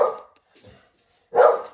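A dog barking indoors, two sharp close barks separated by a short pause and a faint softer yelp between them.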